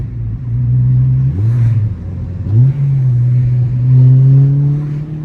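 A car engine revs and accelerates on the road, its drone rising in pitch, dropping at gear changes and climbing again, steady and close throughout with no talking.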